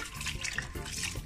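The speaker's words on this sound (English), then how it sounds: "You wanna put it in the sink and you wanna catch some water on it." Tap water runs steadily over sea moss being rinsed in a kitchen sink, a continuous close splashing wash with no voices.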